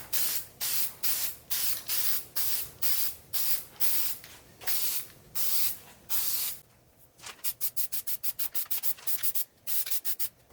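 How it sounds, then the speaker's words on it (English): Alpine Green truck paint from a spray can coats beadlock rings for a go-kart rock crawler, heard as close, rhythmic bursts of hissing spray, first in longer strokes and then in rapid short taps. "hopefully I'm not getting a lot of overspray on my dirt bike"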